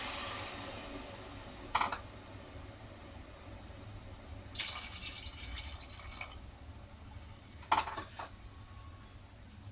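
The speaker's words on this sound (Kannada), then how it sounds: "ಈಗ 2 ಕಪ್ ನೀರು ಹಾಕೋತಾ ಇದ್ದೀನಿ" Water pours in short bursts into a pot of rice for chicken biryani, with a longer steady pour in the middle and quiet gaps between.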